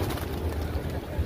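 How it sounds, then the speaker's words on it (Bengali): Pigeons coo in low, repeated throaty bursts while feeding on the ground near the Haram, close and clear over a soft outdoor background. "অনেক কবুতর এসে খাবার খাচ্ছে।"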